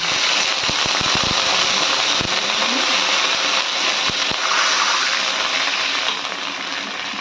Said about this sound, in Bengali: এবার এতে আমরা অল্প পরিমাণে জল অ্যাড করে দিচ্ছি।